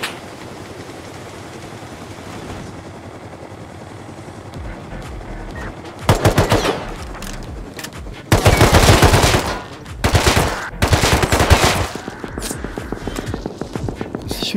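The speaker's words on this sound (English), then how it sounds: "shooting at somebody." Gunfire in Rust, starting after a quiet stretch of ambient sound: one sharp shot, then several loud, close bursts of rapid automatic fire separated by short gaps, with no speech.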